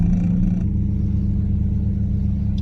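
A Mazda RX-7 FD pulls hard in second gear inside a large shopping mall in Romania, its engine a loud, steady, close-up drone that holds throughout without a break.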